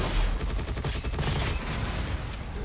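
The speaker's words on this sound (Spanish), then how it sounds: "Creo que ahí causó una explosión" An explosion in the shooter game Gunfire Reborn, a loud, continuous crackling blast with rapid popping bursts and low rumble filling the short moment.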